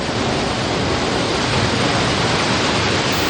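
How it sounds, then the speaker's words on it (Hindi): A waterfall pours steadily near Robber's Cave in Dehradun, Uttarakhand, a loud, dense, unbroken roar of rushing water with no voices. "अब तुम जरा ये पानी का झरना चेक करो"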